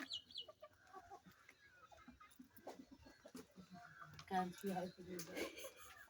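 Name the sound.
chickens clucking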